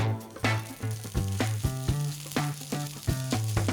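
Steady sizzling of rice and butter in a hot pan with repeated bursts of stirring and scraping, close and fairly loud, no voices.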